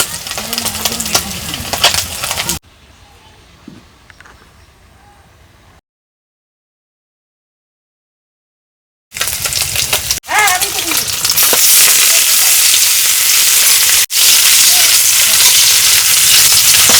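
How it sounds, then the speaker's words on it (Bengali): Oil poured into a hot wok for a prawn dish at an outdoor family picnic sets off a loud, steady hissing sizzle. It follows a quiet stretch and a brief silent gap, then runs close and continuous. "কড়াই গরম হয়ে গেছে, আমি এখন তেল দিয়ে দেবো।"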